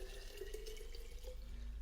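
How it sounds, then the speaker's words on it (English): Cold tap water runs into a container for cold-brew iced tea, a steady soft trickle and splash held at low level throughout, with no voices. "Not hot water, just cold from the tap. So you just fill it up."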